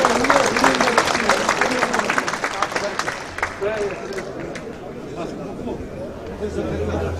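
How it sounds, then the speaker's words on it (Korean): Applause from elders gathered at a church general assembly in Korea, as a Bible and documents are handed to a new chairman. Clapping is strongest at first, then fades into crowd chatter and murmuring voices. "힘찬 박수 부탁드립니다"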